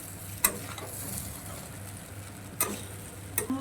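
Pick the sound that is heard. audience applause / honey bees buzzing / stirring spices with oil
stirring spices with oil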